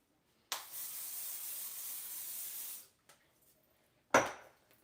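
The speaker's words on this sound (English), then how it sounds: "Then hit it with our hairspray." Hairspray sprayed onto a quick weave hairstyle in one steady hiss lasting about two seconds, followed by faint handling noises and a short sharp knock near the end.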